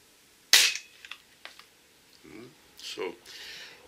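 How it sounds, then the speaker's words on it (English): A small Chinese-made toy gun with a sight fires one sharp, loud crack, followed by a few faint clicks of handling and some quieter rustling and noise. "This gun is actually made in China, you know, very reasonably priced, very nice little sight, and it's kind of just fun."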